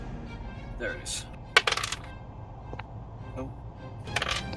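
A six-sided die clatters onto a table at a tabletop role-playing session, a sharp click and brief rattle against quiet room noise, with a few scattered taps around it.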